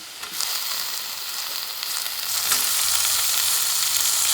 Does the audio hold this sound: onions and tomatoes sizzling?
yes